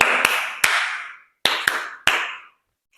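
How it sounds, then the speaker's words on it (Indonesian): Sharp, close hand claps from a class in two quick bursts, a couple of claps and then three more, ringing briefly and followed by silence. "you must clap hand 3 times"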